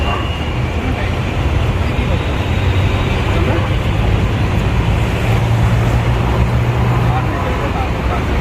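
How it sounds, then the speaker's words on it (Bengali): Dense, steady traffic roars without a break on a congested, jammed street in Kolkata, a loud broadband wash of engines and road noise that fills the whole stretch. "তোমরা শুনতে পাচ্ছ না, অনেক কিছু গাড়ি ঘোড়ার আওয়াজে"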